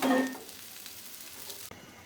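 Fish frying in hot oil, a soft steady sizzle that opens with a louder crackle and ends in a brief clatter.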